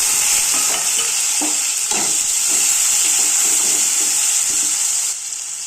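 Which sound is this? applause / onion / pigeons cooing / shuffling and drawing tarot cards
onion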